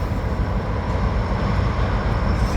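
Locomotive-hauled train with four big diesel locomotives passing at close range, a loud, steady rumble with heavy low-end throb that holds without a break.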